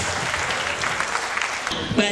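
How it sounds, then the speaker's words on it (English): Audience applause at a university convocation ceremony, a dense patter of clapping throughout with a voice speaking over it near the end. "Another round of applause."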